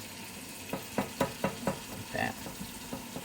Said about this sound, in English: just keep whisking it all up